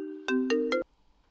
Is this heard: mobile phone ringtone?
yes